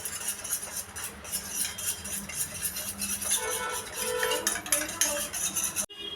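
A utensil clinks and scrapes against a bowl while prawn filling is mixed with salt and pepper, quick repeated stirring taps close by, fairly quiet, ending in a brief sharp knock.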